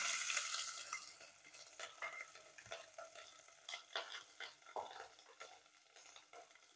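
Ground spice paste sizzling in a pan with cumin and asafoetida for shepu bhaji, stirred by a spoon, giving a faint close crackling hiss broken by soft repeated scrapes and clinks against the pan.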